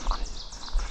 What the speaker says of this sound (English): yellow warblers and vireos and all kinds of stuff.